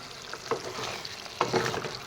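Chicken pieces and potatoes being stirred in a pot of their own released juices, giving two short scraping bursts over a quiet, faint simmer.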